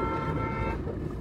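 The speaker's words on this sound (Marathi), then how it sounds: "अबे गाडी आली तिकून." An arriving vehicle sounds its horn in one loud, sustained toot that is close and steady, then fades slightly near the end.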